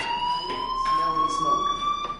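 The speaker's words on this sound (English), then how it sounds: "do you hear that fire alarm? That means you should be outside." A fire alarm rings steadily in a building, its sustained tone holding throughout, loud and continuous.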